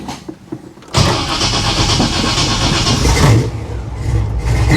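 A 1955 Chevy Nomad gasser cranks briefly, then catches with a sudden loud roar and revs, settling into a rough, rumbling idle with another throttle blip, close up and without talk.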